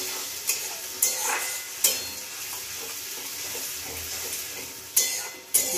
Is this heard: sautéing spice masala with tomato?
yes